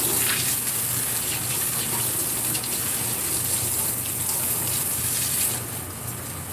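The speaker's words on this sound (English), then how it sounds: "doing a rinse down" Water gushes steadily at a barbecue as the inside of something is rinsed down, a continuous close hissing splash that eases slightly near the end.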